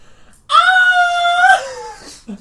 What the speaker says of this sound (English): you guys hear a woman scream